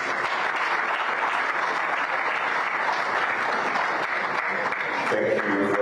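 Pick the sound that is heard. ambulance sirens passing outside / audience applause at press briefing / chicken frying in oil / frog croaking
audience applause at press briefing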